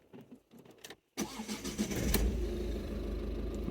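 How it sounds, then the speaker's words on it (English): A car engine cranks and catches after a short pause following quiet handling noises, then settles into a steady, fairly loud idle that continues to the end. "Start the engine."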